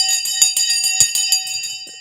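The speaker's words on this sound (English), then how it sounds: "The bell has just gone." Rapid repeated strikes of a bright, ringing bell sound continuously at a stock market open, loud and close, with no voices.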